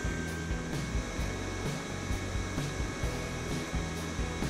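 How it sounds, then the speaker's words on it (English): A Titanium Easy Flux 125 flux-core welder hums steadily once switched on, a close, constant electrical drone with a faint pulsing rhythm and no talk. "I turn on the welder, making sure the flux gun is not in contact with the table"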